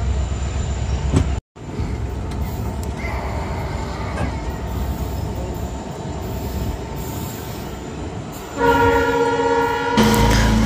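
A local train in Assam pulls away from a station, wheels rumbling and squealing steadily, with a tonal horn sounding near the end.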